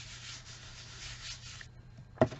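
Soft, steady rubbing of a finger over a glued paper card fold, a quiet whispery friction lasting a second and a half, followed by a short pause and a couple of light taps.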